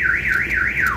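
Honda Fit car alarm sounding a loud, warbling siren tone that rises and falls steadily several times over a second, close by with low background noise and no talk.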